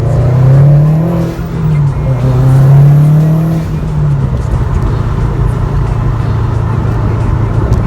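A modified car pulls hard out of a roundabout, its engine droning loud and close with a rising, falling rev before settling into a rougher, steady roar.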